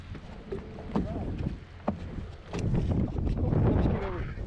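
Strong wind buffets a boat at sea, with gusty rumbling microphone noise, water slaps and hull knocks building toward the end, while voices speak over it.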